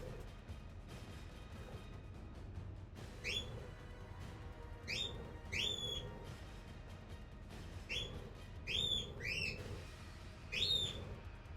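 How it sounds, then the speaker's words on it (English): Birds chirping nearby in an indoor crafting setting, with short bright whistled calls and chirps coming in small clusters over a steady low background hum. "Birds did not approve."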